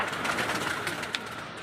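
Pigeons in a loft settle beside one another with soft, low cooing under a steady hum of bird activity, continuous and close over a short stretch, with no one speaking.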